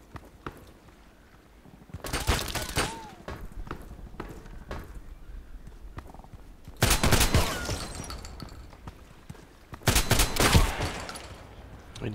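Shotgun fire rings out in a first-person shooter game, coming in three loud, dense bursts of blasts separated by quieter stretches of background game noise.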